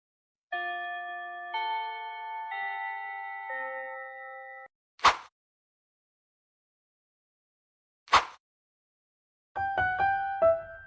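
A school bell chimes before class: a sustained multi-tone electronic melody rings for about four seconds, followed by two sharp isolated knocks and a short resumption of the chime at the end, with no talk.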